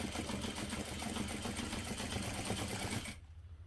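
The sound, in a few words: sewing machine stitching X lines on a parachute knapsack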